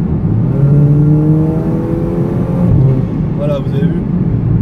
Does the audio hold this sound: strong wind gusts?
no